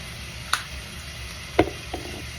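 Frozen steak frying in a pan sends up a steady, soft sizzle with a few sharp clicks and pops from the cooking.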